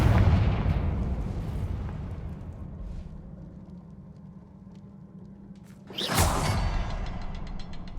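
Two Confringo fire-spell blasts in Hogwarts Legacy: a heavy rumbling boom fades into a low hum, then a second sharp, bright explosion bursts out near the end and rolls on loudly.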